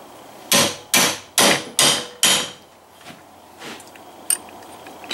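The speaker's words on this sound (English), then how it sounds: "Let me tighten up this vise some." A bench vise is cranked tight during an Aero Precision rifle build: five loud, sharp metallic clanks come in quick, even succession, then a few softer knocks and clicks.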